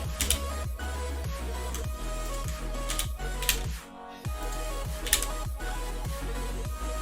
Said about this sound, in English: you just hear me typing on a keyboard